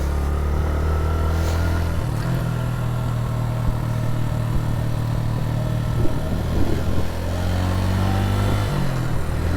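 A Suzuki GS 150 motorcycle climbs a mountain road in northern Pakistan, its engine droning steadily and close with small shifts in pitch as it pulls uphill, loud and unbroken for nearly ten seconds.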